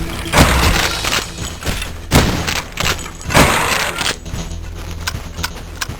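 A lever-action rifle fires in the shooter game Cultic, several heavy booming shots spaced unevenly among clanking thuds and dense game noise, loud and close.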